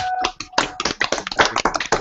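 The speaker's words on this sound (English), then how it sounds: "everybody give him a big round of applause" A small group claps in a workshop setting, a short burst of close, distinct hand claps with uneven rhythm.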